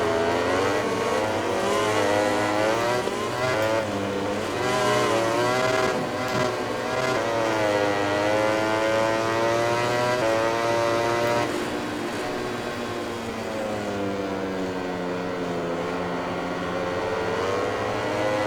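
A racing motorcycle engine, a Ducati in the MotoGP 20 video game, revs and accelerates repeatedly. The pitch climbs and drops through gear changes in a continuous, loud whine with no talking.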